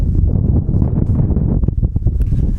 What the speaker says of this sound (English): it's actually super windy out, believe it or not. You probably can hear it